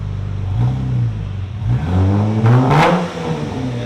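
A 2013 Dodge Charger AWD with a 3.6L V6 and Purple Hornet glass pack exhaust revs up twice, its raspy note rising and falling up close, with a sharper second burst near the end.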